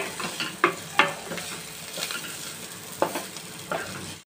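Corn masala sautéing in a pan, a steady close sizzle broken by several sharp scraping stirs of the spoon at irregular intervals, with no voices.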